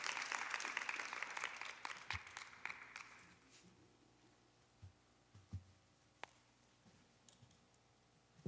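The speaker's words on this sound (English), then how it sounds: "Round of applause for this magnificent panel." Round of applause from an audience at a women's creative forum in Riyadh, Saudi Arabia, thanking a panel; a burst of clapping fades within about three seconds, leaving a quiet room with scattered clicks and taps.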